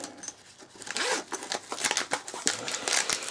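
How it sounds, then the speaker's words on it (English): A bag zipper is pulled open in several quick, rasping strokes, close by, with small rustles of fabric between the pulls. "If I can get the zip undone."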